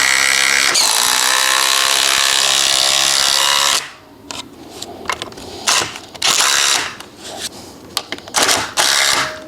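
Cordless power tool drives M10 coach bolts through pre-drilled holes into a wooden fence post, a loud sustained whirring drive that cuts off after a few seconds, followed by several short ratcheting bursts and clunks nearby.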